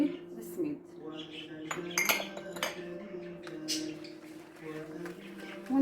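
Spoon stirring semolina batter with coconut in a bowl for saffron basbousa, giving close, irregular scraping and clinking against the dish, with someone speaking softly in between.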